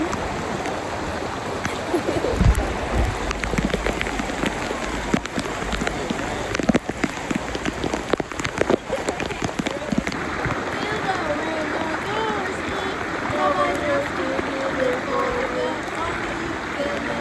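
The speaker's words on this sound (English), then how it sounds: "It's literally raining." Steady rain falls in the Costa Rica mountains, a continuous wash of patter with scattered louder knocks and drops, close and fairly loud, while people talk intermittently.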